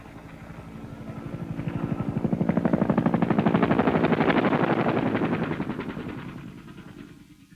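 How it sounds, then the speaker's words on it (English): Bell AH-1 Sea Cobra attack helicopters firing over a landing zone: a rapid, rhythmic mechanical pulsing of rotor and gunfire that swells to a loud peak mid-clip and fades again, with no voices. "Cobras go into a protective pattern above the LZ, usually a butterfly, firing at any targets which could threaten the landing."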